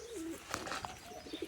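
Pigeons coo softly and close by in a few low, rolling calls, with faint background noise and no talking.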